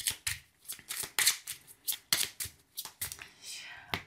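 Prisma Lenormand cards are shuffled by hand in a rapid series of crisp riffles and slaps, close and distinct, with a soft voice speaking briefly underneath.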